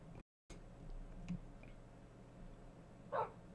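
A dog in a video game gives a single short yelp or bark near the end, after a brief dropout and quiet ambient background, with no talking.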